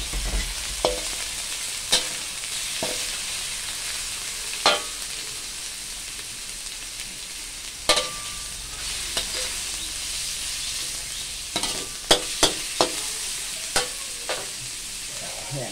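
Chicken offal stir-fried with curry paste sizzles steadily in a pan, with a spatula scraping and clinking at irregular intervals over the constant frying hiss.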